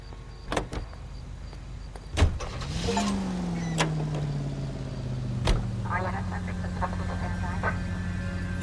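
A car in the 1940s Los Angeles of the video game L.A. Noire: a door opens and shuts with sharp clunks, then the engine starts and settles into a steady hum with a rising whine, while people talk.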